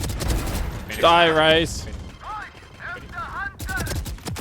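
Rapid bursts of video game gunfire crack out in quick succession, mixed under an excited commentator's talk and other in-game effects.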